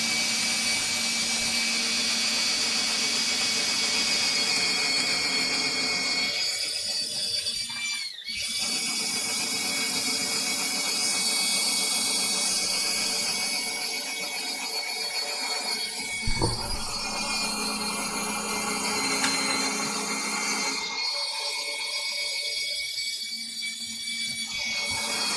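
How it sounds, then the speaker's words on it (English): A handheld drill whines steadily at high speed while boring pocket holes into the sides of a wooden shelf for a shop miter saw station, with brief pauses and a thump partway through. "grab handy dandy drill"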